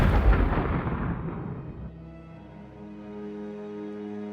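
A loud suicide bomb blast from an assassination at a Rawalpindi rally: a deep, rumbling explosion that fades over about two seconds into a low, sustained ringing drone.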